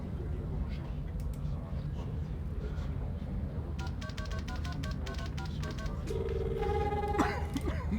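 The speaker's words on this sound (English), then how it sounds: "there's a phone call for you" A vid phone rings in The Longest Journey point-and-click game, a bright electronic ringing tone entering in the second half over a steady ambient game background and rising as the clip closes.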